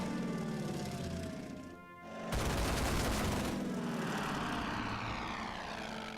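Fighter aircraft strafing in the World War II strategy game Order of Battle: engine drone and a sweeping roar, then a sudden loud burst of gunfire and rushing noise that carries on to the end, with no talk.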